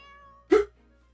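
A large cat meows once in the video game Fire Emblem: Three Houses, a single short, close cry that stands out sharply over faint game music.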